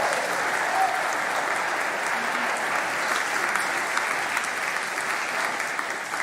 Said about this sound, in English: Can I get another round of applause for these powerful?